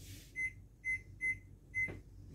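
A kitchen timer being set gives four short, clear electronic beeps at an uneven pace, close by in a quiet kitchen.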